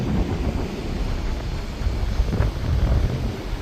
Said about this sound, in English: It's not worth not having internet and not being able to be on the beach a whole lot because it's so darn windy.